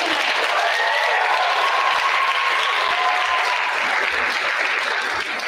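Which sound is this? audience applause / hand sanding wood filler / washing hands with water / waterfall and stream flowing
audience applause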